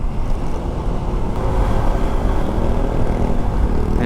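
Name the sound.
Honda ADV 160 scooter accelerating uphill with passenger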